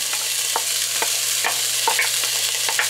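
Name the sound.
colorful peppers added to a hot pot, sizzling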